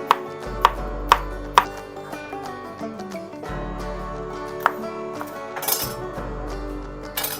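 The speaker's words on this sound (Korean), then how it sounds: "양파와 파, 청양고추를 썰어 볼게요." A knife chops onion, green onion and Korean chili pepper on a board for kimchi stew, giving sharp, evenly spaced knocks that go quicker and busier near the end, close by with no talk.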